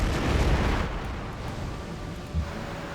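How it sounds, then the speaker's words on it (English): A Civilization 5 battleship attacks and sinks a privateer with a loud, rumbling blast that fades into a churning roar, with a smaller thud near the end. "Let's sink this privateer"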